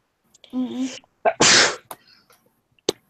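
A loud, sharp sneeze bursts out after a short voiced intake, followed by a few faint clicks and breaths.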